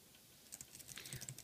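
Light, quick key taps on a Logitech keyboard cover for an iPad, a soft irregular clicking burst heard close and alone.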